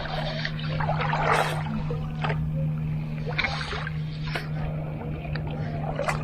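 A canoe paddled on Lake Cachuma makes soft, regular watery strokes and drips every second or so, close by, over a steady low electrical hum.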